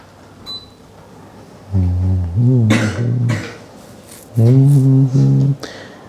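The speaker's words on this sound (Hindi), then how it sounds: "एक खांसी आ गई, पता नहीं कहाँ से" Two close bursts of harsh, voiced coughing, each a quick run of rough coughs, with quiet pauses before and between.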